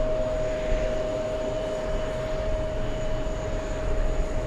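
An airliner on final approach into Kennedy airport in New York during UN General Assembly week gives a steady, moderately distant engine roar with a thin sustained whine, unbroken and without voices.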